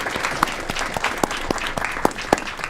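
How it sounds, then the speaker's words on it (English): Audience applause at a city council meeting, a short burst of steady clapping from a room of people with sharp individual claps standing out, fairly close and unbroken. "Give a round of applause."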